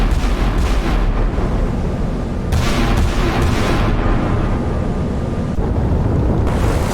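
Sixteen-inch guns of an Iowa-class battleship firing in a naval combat game, a continuous loud roar of booming blasts and rumbling low-end pressure that fills the whole stretch without pause.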